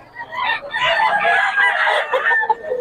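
Roosters crow repeatedly and loudly up close, with overlapping calls and some clucking from fowl offered for sale, while someone talks faintly in the background.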